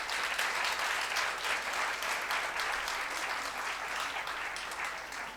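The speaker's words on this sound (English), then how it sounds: "let us have a huge round of applause for all of our participants here" Sustained applause from an audience at a teen entrepreneurship challenge event, a dense, steady clapping that stays loud throughout before easing slightly at the end, with no talk over it.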